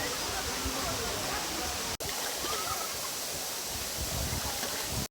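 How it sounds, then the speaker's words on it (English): The Orekhovsky waterfall on the Bezumenka river near Sochi roars as a loud, steady wash of falling water, heard close and continuous with a brief break near the middle. "finally see the Orekhovsky waterfall, which is, by the way, the second highest waterfall in the area"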